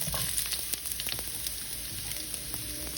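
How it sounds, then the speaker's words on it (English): Sliced onions sizzling and frying in hot oil while cooking Bunjal Berbice swamp shrimp, a steady close crackling hiss with scattered sharper pops throughout. "my oil is nice and hot. Here's where I'm gonna go in with my onions."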